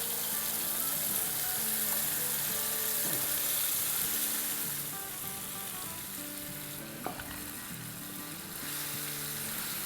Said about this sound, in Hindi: इसकी मसाले की हम बड़ी अच्छे से भुनाई करेंगे।